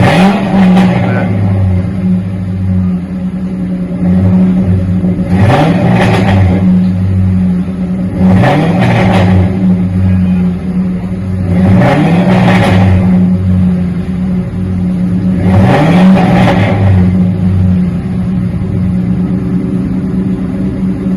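A 1977 Ford F150 engine with Flowmaster 40 mufflers revs up loudly about five times over a low, rumbling idle, each rise in pitch swelling then settling back, heard up close with no talking.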